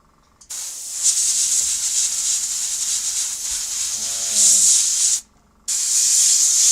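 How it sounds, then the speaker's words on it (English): Thinned Vallejo primer is spray painted in a continuous, close, bright hiss that cuts off briefly near the end and then resumes just as loudly. "Jason, Rob, Grace, be careful of spraying onto the Duchess"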